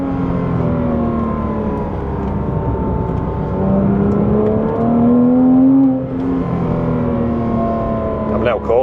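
A Porsche pushing hard around Blyton Park race track, engine droning loud and steady with rising and falling pitch as it accelerates and shifts, peaking in a strong surge midway.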